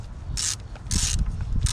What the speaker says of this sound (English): Now we need to remove the fill bolt.